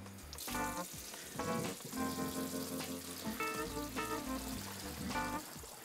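Water runs and splashes at a kitchen sink as a pot of meat and broth is drained, a steady rushing pour with clattering and sloshing bursts, fairly loud and close, with no talking.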